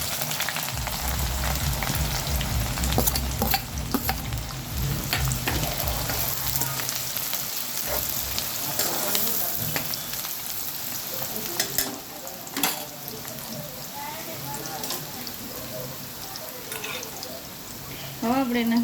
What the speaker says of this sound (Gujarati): આપણે નાખી દઈશું ઝીણા કાપેલા કાંદા